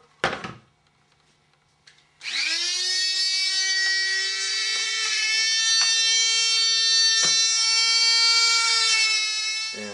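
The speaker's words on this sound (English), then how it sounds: "we're going to shave those down just a tiny little bit with our Dremel" A Dremel rotary tool is shaving down the sides of an airsoft sniper foregrip: a brief clatter, then the tool spins up into a loud, steady, high whine held for about eight seconds, with slight dips as it bites into the material.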